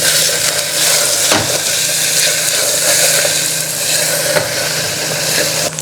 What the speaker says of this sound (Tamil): இப்போ இது வதங்கிட்டு இருக்கல